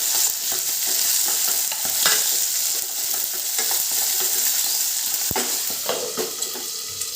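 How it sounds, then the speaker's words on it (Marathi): Tomatoes, green peas and paneer fry in a pan on lowered heat, a continuous sizzle broken by repeated scraping and stirring clatters, close and fairly loud, with no talking. "आपल्याला दोन ते तीन मिनटं टोमॅटो आणि वटाणे फक्त थोडेसे फ्राय होऊ द्यायचे"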